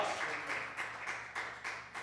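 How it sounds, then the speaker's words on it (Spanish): Church congregation applauding together in a large hall, steady broadband clapping rising in several swells over two seconds, moderately loud with no voices on top. "Denle ese aplauso al Cordero de Dios."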